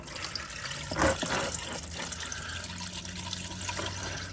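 Engine oil gurgles and trickles steadily out of the quick-release drain on a GM LSY engine, with a brief louder gush near the start before settling into a continuous liquid pour.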